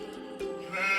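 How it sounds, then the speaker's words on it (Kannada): Sheep bleating, a short near cry that swells louder toward the end, heard alone within a run of farm and wild animal sounds. "ಕುರಿ"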